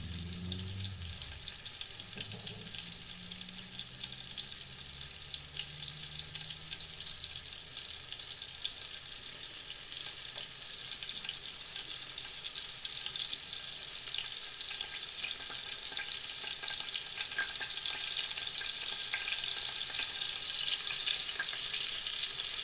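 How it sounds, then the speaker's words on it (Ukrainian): Continuous crackling sizzle of meat cutlets frying in a pan until golden-brown, steady and close, with a few soft knocks near the start. "будемо смажити їх до рум'яної скоринки"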